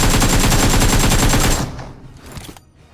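Rapid gunfire from a DBS double-barrel shotgun in a battle royale video game, loud dense blasts for about a second and a half, then scattered fainter shots and fading echoes.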